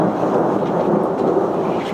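Thunder rumbles low and steady through a mountain thunderstorm on the Tour du Mont Blanc, heard as a continuous loud roll lasting the full two seconds with rain noise underneath.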